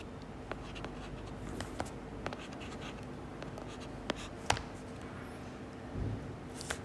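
A pen scratches on paper while a force diagram for a seesaw problem is drawn, giving quiet strokes and small scattered taps over a faint background hum, with no talk.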